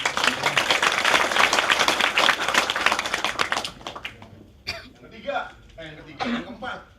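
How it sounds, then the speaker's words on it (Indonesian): A room of attendees at a business vision day bursts into dense, loud clapping that lasts a few seconds, then thins out into scattered claps and a short murmur of voices. "Tepuk tangan untuk"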